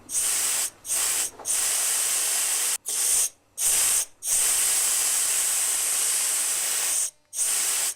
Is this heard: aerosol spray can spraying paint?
yes